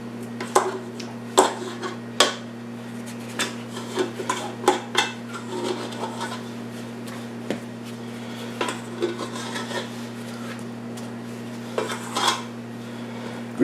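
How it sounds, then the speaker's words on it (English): A bowl scraper drags and scrapes sticky sourdough out of a bowl in a series of irregular rubbing strokes and soft knocks, heard close up over a steady low hum. "And now we'll just try to scrape this out."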